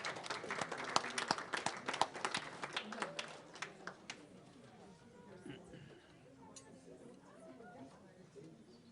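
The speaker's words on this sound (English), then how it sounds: "Give yourselves an applause." Students applaud at a youth debate symposium, a burst of clapping and cheering that fades within about four seconds into murmuring crowd chatter and shuffling.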